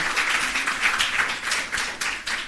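An audience at a student loan grants event breaks into steady applause, a dense wash of many hands clapping together that holds for a couple of seconds with no talking over it.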